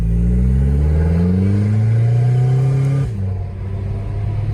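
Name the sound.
diesel engine idling, exhaust from Audi A3 TDI with cutout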